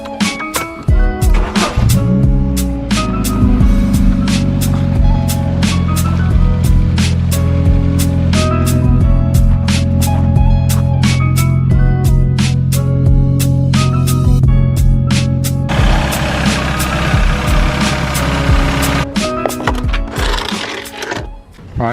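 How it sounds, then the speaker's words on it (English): A Ford Fiesta engine runs steadily to warm its oil before an oil change, a dense, continuous mechanical drone with a steady hum that holds loud and unbroken throughout. "I'm just going to run the car for a couple of minutes just to warm up the oil so it drains out easier."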